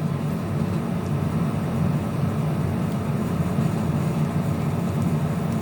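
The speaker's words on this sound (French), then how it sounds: "le bruit que vous entendez, c'est la clim." A steady, unbroken air conditioner hum with a soft whooshing air noise drones continuously at an even level indoors, with no other sounds standing out.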